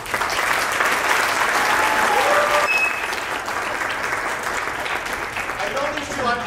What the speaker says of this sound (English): nice round of applause for Mr. and Mrs. Reid and Carolyn